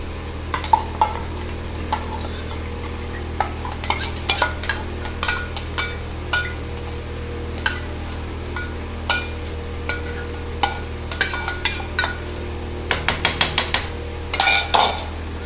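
A metal spoon stirs and mashes cooked rice and lentils for sakkarai pongal in a metal pot, giving irregular scrapes and clinks against the pot over a low steady hum, with a burst of rapid knocks near the end.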